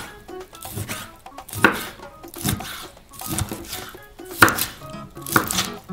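A knife slices repeatedly through roast duck onto a cutting board, each cut a short crisp thud in a steady, unhurried rhythm, close up.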